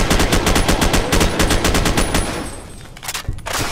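Rapid bursts of laser-gun fire in Fallout: New Vegas, Old World Blues add-on, loud and close with a fast repeating rhythm for about two seconds, then trailing into a few scattered shots.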